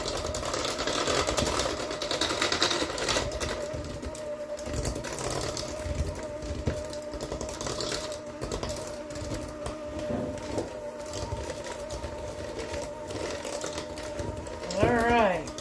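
Electric mixer stirring flour, baking soda, baking powder and salt into cookie dough for lemon orange sour cream cookies, a steady mechanical whir running throughout at moderate level with brief louder moments.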